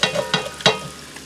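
Chicken broth hits a hot pan and sizzles in three sharp bursts as browned bits are scraped from the bottom in a home country kitchen, close and loud, fading to a soft hiss between strokes.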